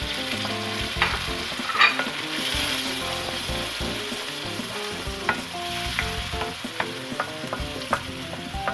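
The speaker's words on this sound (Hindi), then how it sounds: "लहसुन अदरक, और ये सारे मसाले डालकर अब हम इसको भून लेंगे।" Garlic, ginger and spices stir-fry in a pan for an Aloo Anday curry, with a steady sizzle broken by repeated scraping strokes and knocks of the spoon. The sound is close and continuous, and no one speaks.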